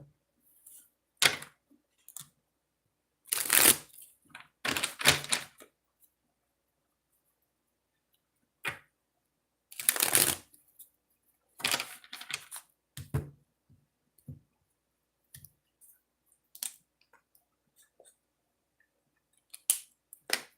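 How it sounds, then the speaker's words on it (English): Tarot cards shuffled by hand in bursts of crisp riffling and tapping, separated by quiet pauses, close and fairly soft. "I'm going to do some shuffling and then we'll get started"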